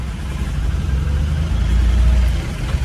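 Vehicle engines idle in a traffic jam held up by a bus, a steady low rumble of motors close by that never lets up, with no talking.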